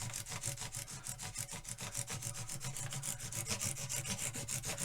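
Frets on a Kalamazoo guitar being polished to an even shine, a close, quiet rhythmic rubbing with quick back-and-forth strokes repeating steadily and evenly throughout, no voices.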